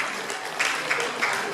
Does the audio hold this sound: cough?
no